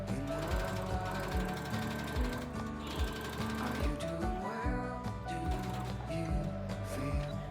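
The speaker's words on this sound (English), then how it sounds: "I'm going to sew the two layers together at the bottom of the bikini using a straight stitch." Sewing machine running a straight stitch through two fabric layers at the bottom of a triangle bikini top, giving a steady, rapid mechanical patter up close with no voices.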